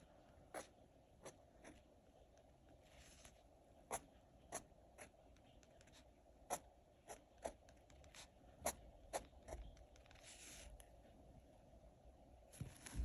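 A pen drawing short lines on paper: quiet, close scratchy strokes in an irregular series of brief ticks, with soft rustling between them and no voice.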